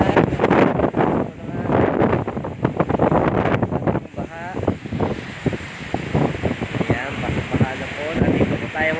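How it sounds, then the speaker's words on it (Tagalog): Strong gusting typhoon wind roars and buffets the microphone in Nasugbu, with a voice speaking loudly over the turbulent noise. "napakalakas po talaga ng hangin"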